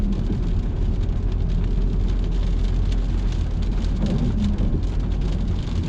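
Steady, dense rain patter fills the whole stretch, a continuous hiss over a low rumble like rain drumming on a moving car, driving through a bend at 50 km/h.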